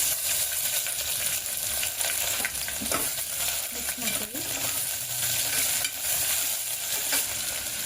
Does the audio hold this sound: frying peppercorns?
yes